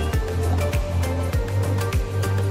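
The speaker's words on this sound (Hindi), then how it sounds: "यहाँ तक पानी की आवाज़ें आ रही हैं" Water pouring through the large Ganga barrage at Bijnor makes a steady, loud broadband roar, with rhythmic low thumps and surges recurring through the rush.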